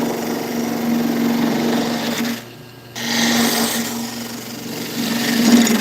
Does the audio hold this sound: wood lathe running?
yes